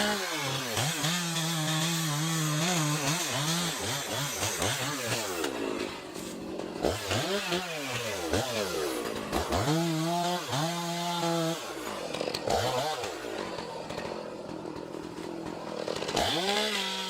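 A chainsaw cuts into a 600-year-old tree during felling, its engine revving up and down in repeated loud surges with short drops between cuts.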